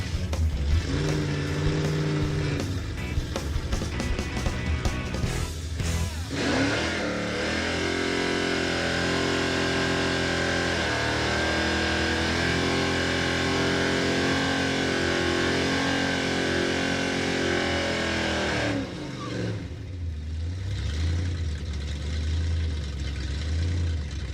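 Crusher Impala drag car held at about 3,500 RPM on the drag line against its drum brakes, a loud, sustained engine roar that steps up from a rough idle, holds steady, then falls away, with no talk.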